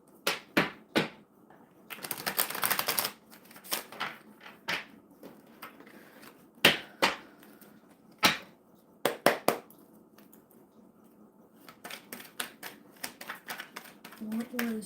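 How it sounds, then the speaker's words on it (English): Tarot cards being shuffled by hand during a live reading, with repeated short riffling and slapping bursts, one longer shuffle, and quiet gaps between, close and crisp. "Let me give it another good shuffle."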